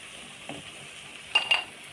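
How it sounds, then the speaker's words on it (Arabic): Chocolate-filled qatayef frying in hot oil, a faint sizzle with a soft clink of utensils and two short scraping clatters near the end, no voices. "يلا احنا كده دلعنا القطايف في الزيت"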